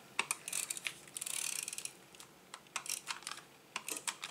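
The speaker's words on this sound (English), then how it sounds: "I'm going to use my tape runner for this." Rapid ratcheting clicks and a brief rasping run from a tape runner laying adhesive inside a handmade vintage-style Christmas card, close and crisp, with irregular bursts and no voices.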